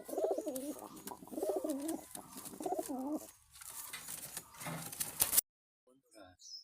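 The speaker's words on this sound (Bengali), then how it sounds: "এই যে আরো এক জোড়া পায়রা" Pigeons coo close by in repeated soft, throaty phrases, a few bursts in a row, before the sound cuts off into near silence.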